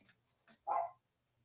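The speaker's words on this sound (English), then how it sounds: "My dog is barking." A dog gives one clear bark close by, preceded by a couple of faint yips or whimpers, in an otherwise quiet indoor room.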